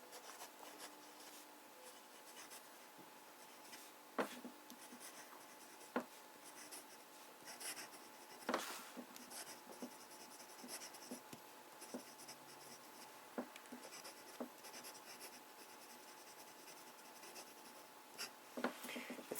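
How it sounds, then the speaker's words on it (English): A fine-nibbed fountain pen writes with De Atramentis Ochre ink, giving a faint, continuous scratchy rasp on paper. Small ticks mark pen lifts and strokes at irregular intervals, very close and quiet, with no voices. "Let's start with some fine writing."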